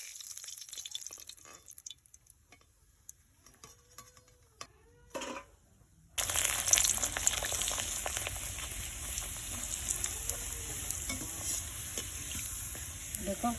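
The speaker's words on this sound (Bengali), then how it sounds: "বন্ধুরা, পাঁপড়গুলো ভাজার জন্য আমি কড়াইতে তেল দিয়েছি, তেলটাও গরম হয়ে গেছে। এবার পাঁপড়গুলো ভেজে নেব।" Papads, lentil wafers, deep-frying in hot oil in a kadai: after a quiet start with a few soft clicks, a loud, continuous crackling sizzle begins abruptly and keeps going steadily to the end.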